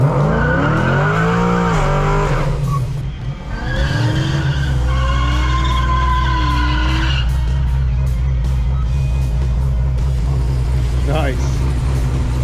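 A 6th-gen Camaro SS with a 3600 stall converter races a cammed C6 Corvette with a 6.0 LS2 and bolt-ons, engines roaring loud and close, tires squealing and skidding, while people talk over the noise.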